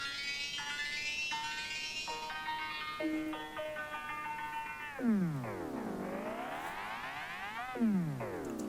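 A cat meow sample layered with extra effects and heavy delay, heard as stepped, chiming electronic tones followed by long swooping pitch bends, like a warped guitar, continuous and moderately loud with no voices.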